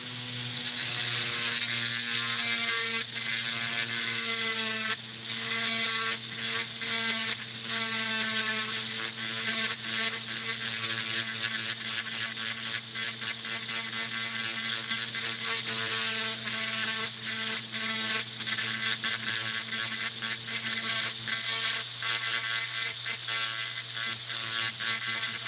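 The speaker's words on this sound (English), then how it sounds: "So you already got your Dremel set up with your burr tool." A Dremel rotary tool fitted with a burr bit grinds a scale model, giving a continuous high-pitched whine with steady harmonics and brief dips in load, loud and close throughout with no talking.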